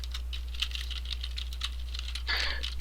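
Quick, light keystrokes patter on a computer keyboard as someone types a chat message, close and steady, with a brief denser burst near the end.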